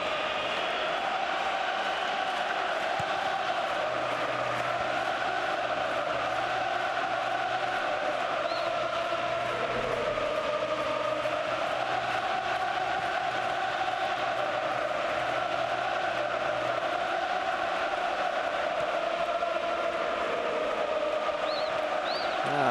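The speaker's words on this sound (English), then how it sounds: "It's always very difficult to silence this Athletic Bilbao crowd" A packed Athletic Bilbao home crowd at a football match against Real Madrid keeps up a steady, dense roar of chanting and noise throughout, distant and sustained.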